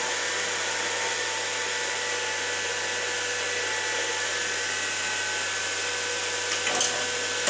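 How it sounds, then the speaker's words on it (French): A computer processor's cooling runs noisily as a steady, loud, unbroken whooshing hum with a faint low drone underneath, close by, with no talk. "Mais ça fait quand même du bruit, hein. On entend bien celui du processeur bouillir."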